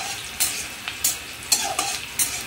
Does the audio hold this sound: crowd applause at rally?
no